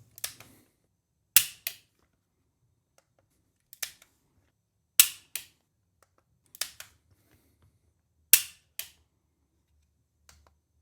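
Repeated trigger pulls on a CZ P07 pistol measured with a trigger gauge in single action mode: sharp metallic clicks, each followed by a softer reset click, spaced about every one and a half seconds in near silence.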